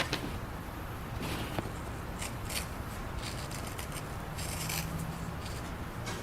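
Short scissors with finely serrated blades snipping through tough exotic leather such as stingray or alligator skin for pistol grips, a steady run of close, crisp cuts and rubbing with no talking.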